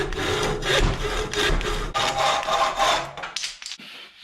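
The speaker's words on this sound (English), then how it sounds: "I have the handle cut to length" A hand saw cuts a wooden shovel handle to length, with loud, close rasping strokes in a steady back-and-forth rhythm that grow shorter and choppier as the cut finishes.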